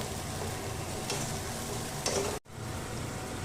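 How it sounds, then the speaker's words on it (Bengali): Green chili, coriander and cumin paste fries in oil with a dense, even sizzle while a utensil scrapes now and then, broken by a very short drop to near silence before the frying resumes. "এবার এটাকে ভালো করে আমি কষিয়ে নেব"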